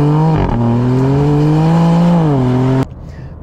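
A BMW M2's inline six-cylinder engine accelerates hard, a loud steady rising drone with strong harmonics lasting nearly three seconds before it cuts off abruptly into quiet.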